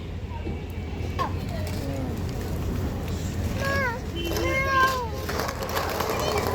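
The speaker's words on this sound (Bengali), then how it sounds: "এই যে এখানে একটা ছোট্ট বিড়াল শুয়ে আছে" A small cat lying in a busy public spot in Saudi Arabia gives several short, rising meows close by, with murmuring voices and crowd noise in the background.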